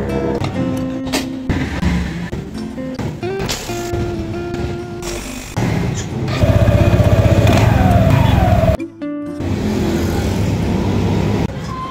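Motorcycle engine revving after a torque drive repair with new o-rings, loud and close, with irregular throttle blips rising into a sustained high rev before dropping and resuming.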